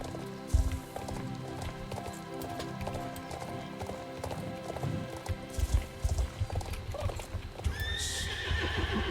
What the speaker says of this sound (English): Do you hear it? The horses.